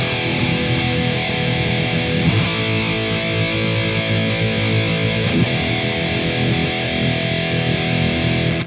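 High-gain metal guitar run through a Marshall cabinet plugin, a thick distorted tone sustained loud and steady with chugging riffs and a few picked accents.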